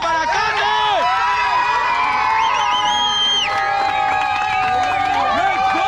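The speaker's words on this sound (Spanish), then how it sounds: "Otro fuerte aplauso para Cora" Crowd at a women's bike jam cheering and whooping: loud, continuous overlapping shouts and high yells from many voices throughout.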